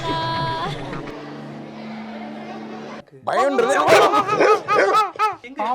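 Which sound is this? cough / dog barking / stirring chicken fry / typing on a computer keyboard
dog barking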